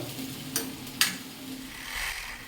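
Onions fry in a pan for chicken curry and are stirred now and then, a faint steady sizzle broken by a few soft scraping clicks of the utensil, close but quiet.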